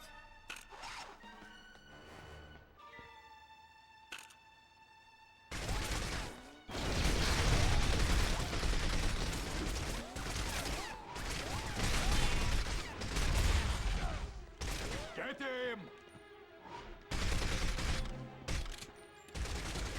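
Gunfire in 007: From Russia With Love, loud bursts of rapid shots and fusillades with crashes and impacts, broken by brief quieter gaps and mechanical sounds.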